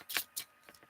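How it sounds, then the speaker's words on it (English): Cards shuffled for a card reading make a few quick, soft riffling bursts, close and faint, with no speech. "so that makes sense the way the cards are shuffling"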